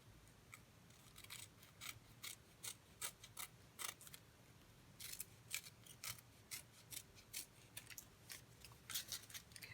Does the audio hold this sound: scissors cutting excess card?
yes